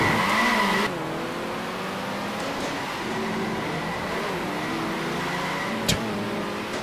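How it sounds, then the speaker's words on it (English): A race car in Circuit Superstars takes a bump and spins out, its engine whining steadily with shifting pitch as tires scrub and squeal, ending in a sharp knock near the end. "Tapped my bumper and spun out again."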